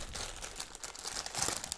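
A plastic bag crinkles and rustles as it comes out of a brown cardboard box, a brief, faint, close-up burst of crackling handling noise with no talk.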